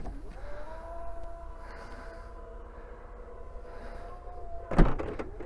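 Electric tailgate of a seven-seat Chinese SUV humming steadily as it lowers over one raised third-row seat, ending in a loud latching thud near the end.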